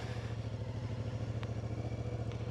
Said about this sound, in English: Oh, yes, you can start it in gear if you hold the brake.